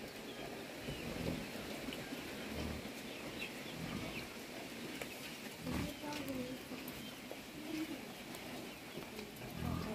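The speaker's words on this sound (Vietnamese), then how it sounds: "Trời mưa." Steady rain and strong wind in a rural Vietnamese home where a fire burns indoors, a constant broadband wash with pigeon-like coos and people talking over it.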